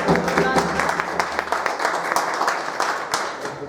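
Steady, dense applause and clapping from a gathered crowd at a business meeting, honouring a senior manager named Shakir. It runs continuously with talk mixed in.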